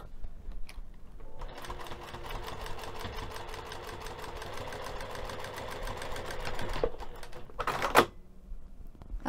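A sewing machine stitches a fabric storage bin in a steady, rapid run of mechanical clatter lasting about five seconds, followed by a brief sharp clack.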